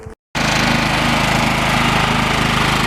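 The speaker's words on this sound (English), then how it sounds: "I want to ride the riding lawnmower." A steady, loud engine drone of a riding lawnmower running close by, constant and unbroken after a brief moment of silence at the start.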